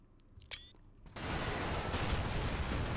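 Tank guns fire in the war game Men of War: Assault Squad: a few sharp shots, then a sustained loud roar of explosions and gunfire filling the rest of the stretch.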